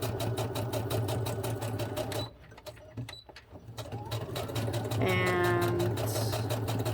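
Sewing machine stitching fabric, running in steady rapid bursts with a short pause midway, then whirring on again while a faint high squeal comes in near the end.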